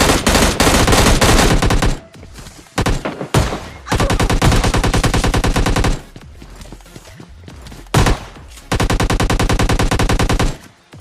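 Squads trade automatic gunfire in PUBG Mobile Lite during a solo-versus-squad rush. Loud, rapid bursts of shots repeat in long runs, separated by short lulls with scattered single reports.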